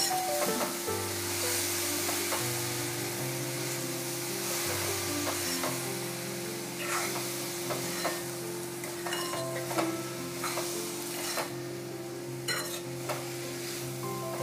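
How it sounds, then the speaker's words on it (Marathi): Fenugreek leaves and potato bhaji frying in a kadhai while being mixed, with a continuous sizzle broken by scraping stirs and light clinks of the spoon against the pan, heard under background music. "हे सगळे मिक्स करूया."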